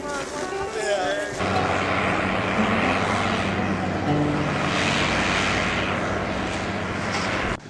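An airplane departs an Antarctic base, its engine roar swelling from a softer start into a loud, steady, close drone that holds throughout.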